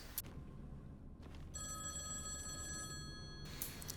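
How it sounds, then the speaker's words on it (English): An old-style telephone bell rings in the horror game SCP: 5K, one shrill, steady ring of about two seconds sounding over a dim, rumbling ambience in a quiet room. "This phone has been ringing for multiple"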